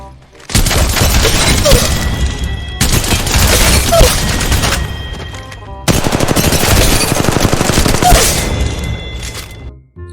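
Rapid automatic gunfire in the mobile shooter Apex Legends Mobile, loud and close, in three sustained bursts of dense rattling shots separated by brief pauses.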